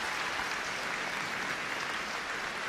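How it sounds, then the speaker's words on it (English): Stadium crowd applause for rugby against racism before a France v Japan match, a distant, even roar of clapping with no breaks or peaks. "The applause for rugby against racism."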